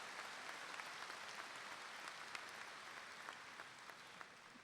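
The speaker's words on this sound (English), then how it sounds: "That deserves a clap." A distant audience claps at a high school graduation ceremony, a faint but continuous wash of hands filling a large venue.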